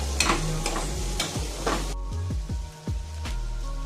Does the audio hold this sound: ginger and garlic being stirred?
yes